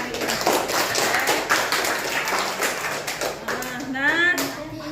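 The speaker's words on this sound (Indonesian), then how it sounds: "Tepuk tangan untuk kalian semuanya yang hebat-hebat hari ini" A school class claps together during a lesson, with continuous rhythmic clapping and tapping throughout and children's voices rising over it toward the end.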